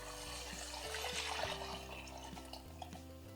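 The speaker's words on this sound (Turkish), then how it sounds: "Şimdi içerisine kaynamış suyum var. Suyumu döküyorum." Boiled water pouring steadily into a pot while cooking Elazığ Harput köftesi, a continuous splashing liquid stream close by with no talk over it.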